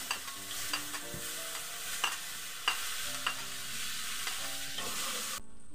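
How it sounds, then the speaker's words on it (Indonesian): Onions fry in a pan, giving a steady sizzle broken by several sharp clinks and scrapes of stirring, close and fairly loud. "Saya masukkan bawang."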